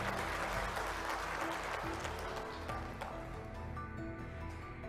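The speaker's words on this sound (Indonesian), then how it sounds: "Tepuk tangan untuk kita semuanya." Audience applause at an Indonesian political rally on land-mafia crackdown, steady dense clapping throughout, moderately loud with crowd noise beneath.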